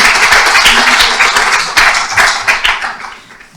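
Close, vigorous applause from an audience at an annual general meeting, a tight wash of claps that swells and fades out over a few seconds.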